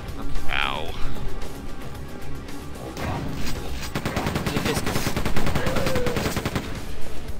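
Rapid bursts of gunfire in Quake 2, a fast sci-fi shooter, crackle densely through most of the stretch, loud and close, with brief game effects and voices mixed in.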